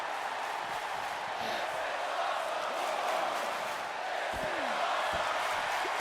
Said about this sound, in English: The crowd chanting that this is awesome